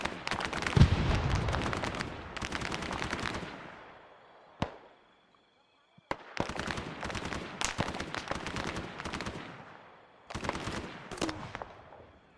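ArmA 3 combat rings with bursts of rapid gunfire in several volleys, separated by brief pauses and a couple of sharp single cracks, some shots close and loud, others further off.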